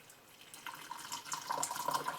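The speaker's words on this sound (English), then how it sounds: "now I'm going to pour it and we'll see what it looks like" Brewed rose petal tea with allspice is poured into a cup, a thin trickling stream that begins faintly and grows steadily louder, with no talk over it.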